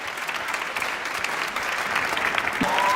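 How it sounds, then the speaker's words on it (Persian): Audience applause at a live gathering, steady dense clapping that holds for about three seconds and swells slightly toward the end, with a brief voice cutting in near the close. "حسنه این رو تشویق کنین"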